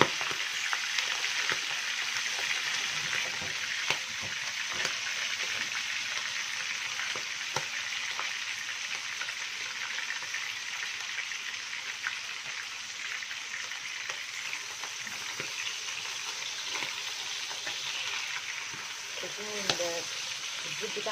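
Chicken liver sizzles and fries in very hot oil in a pan, a steady crackling hiss running throughout with occasional pops and someone speaking over it.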